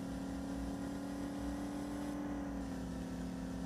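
A Camaro V8 in a racing video game built around classic Brazilian cars, its engine holding a steady, continuous drone with a faint whirring layer on top and no voices.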